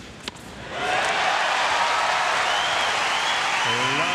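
A tennis crowd at a US Open match, Isner against Raonic, bursts into applause after a faint thud, swelling into a steady, dense roar of clapping and cheering that holds loud to the end, with a voice rising over it near the close.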